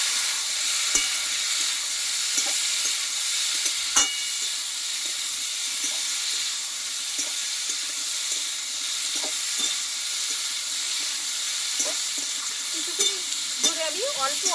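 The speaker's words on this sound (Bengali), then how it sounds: "এইবার এখানে সেদ্ধ করা পেঁপেটাকে দিয়ে দেবো ভালোভাবে কষিয়ে নেবো একটু" Boiled papaya is stir-fried in a pan for a Bengali vegetarian dish. A steady sizzle runs throughout with occasional spatula clinks and scrapes, heard close with no voices.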